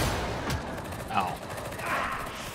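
A scab gunner fires in the video game Darktide as a continuous burst of automatic gunfire in a busy battle mix. Speech comes in over the shots.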